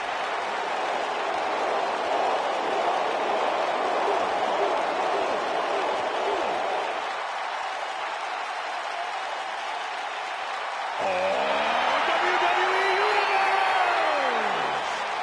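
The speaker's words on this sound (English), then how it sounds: "Clap for your longest reigning tag champs and feel the power." WWE wrestling arena crowd at a New Day versus Viking Raiders tag team championship match, with steady broad applause and cheering filling the space, then a louder swell with whoops and rising shouts near the end.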